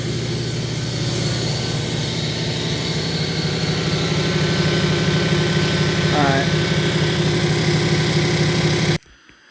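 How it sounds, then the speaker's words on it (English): Air compressor runs steadily with a loud, constant droning hum and vibration at close range, then cuts off abruptly at the end. "I just wanted the compressor off so I can get my hearing back so you can hear me"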